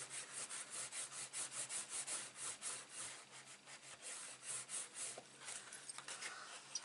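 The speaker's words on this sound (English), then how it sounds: "just while I give it a good rubbing" A paper flap on a handmade vintage-style stationery box being rubbed firmly, giving a faint, close, rhythmic scratchy swishing in repeated strokes that slow slightly toward the end.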